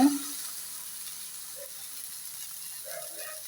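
Small fish frying in a pan, a steady soft sizzle and hiss with a brief stir or clatter at the start and faint crackles, close and quiet.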